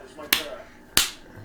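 Two sharp, loud hand claps about two-thirds of a second apart, swatting at a fly, each a crisp smack with a short ring-off in a quiet room.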